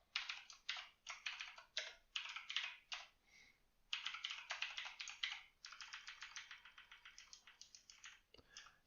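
Steady computer-keyboard typing with quick bursts of keystrokes and short pauses between words, close and clear, with no talking.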